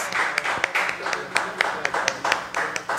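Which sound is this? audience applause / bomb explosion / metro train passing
audience applause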